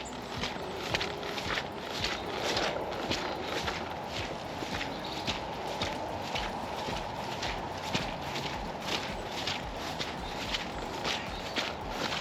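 Squishing footsteps on a wet park path, walking with terriers under grey and blue sky, a steady rhythm of close, soft steps continuing throughout with faint rustle and outdoor ambience.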